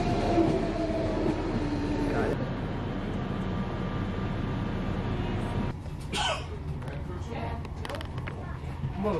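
Steady low rumble of a moving train carriage, with rattling and clatter from the wagon; muffled voices talk underneath throughout.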